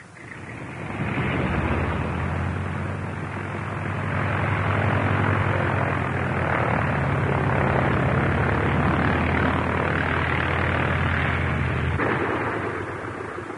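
A propeller airplane engine drones loudly and steadily nearby, a rough, throbbing roar that holds for the whole stretch, with no talking.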